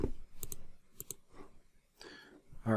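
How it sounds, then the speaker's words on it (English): Fast typing on a computer keyboard while writing a C program, giving a few quick bursts of sharp clicks separated by brief pauses. "Typing too quick for my own good."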